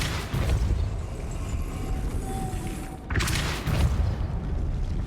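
Depulso force spell cast in the video game Hogwarts Legacy, a dense booming blast that swells and rumbles continuously, with a second burst midway, loud and close, no talk.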